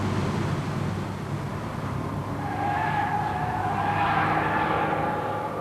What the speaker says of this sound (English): you leap into action in a fairly hot saloon car, the Ford XR3i